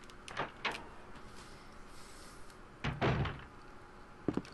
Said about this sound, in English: I just go through this door, right?